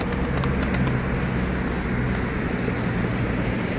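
Young pigeons cooing steadily inside a loft, with soft wing flutters and faint background hum; continuous and fairly close.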